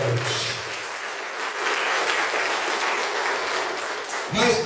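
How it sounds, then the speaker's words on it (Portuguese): A church congregation at Sunday Mass applauds together, a loud, sustained wash of clapping that keeps going for several seconds before cutting off abruptly, with a brief voice at the end. "Vamos dar uma salva de palmas para Jesus."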